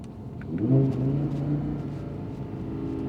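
An Audi R8 Performance engine in dynamic mode revs up and rumbles steadily at moderate volume, a low throaty growl rising briefly then holding.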